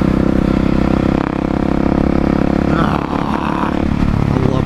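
A Husqvarna 701 Supermoto motorcycle engine drones loud and steady while riding, with wind and clatter rising partway through.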